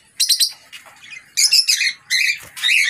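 Lovebirds and cockatiels in breeding cages chirp in close, loud bursts of shrill, rapid tweets separated by brief pauses.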